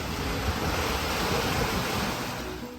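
Steady ocean wind while sailing offshore at about 14 knots, a constant loud broadband rush of wind and water that fades slightly toward the end, with no voices.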